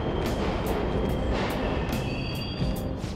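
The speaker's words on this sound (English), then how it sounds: "The trains are totally running!" Subway trains running in the video game Persona 5 Royal: a continuous rumbling rush with rhythmic clicking wheel beats and a thin metallic squeal, loud and close, with no talk.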